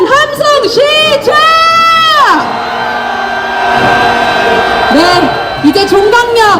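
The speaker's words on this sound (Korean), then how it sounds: "윤석열 탄핵에 대한 함성 시작!" A large street protest crowd marching past Myeongdong shouts and roars for Yoon Suk-yeol's impeachment, loud sustained voices rising together in a long chant-like cheer, with sharp individual yells breaking out at the start and end.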